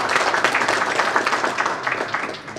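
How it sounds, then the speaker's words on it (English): An audience at the closing of an international conference applauds steadily, a dense, even wash of many hands clapping together for a few seconds without letting up. "Let's give a better clap."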